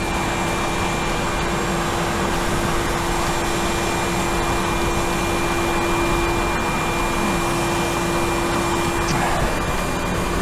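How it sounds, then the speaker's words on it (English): A vacuum cleaner runs continuously and loudly, drawing debris out of a household drain with a steady roaring whoosh and a constant motor whine. "No, the vacuum's getting it."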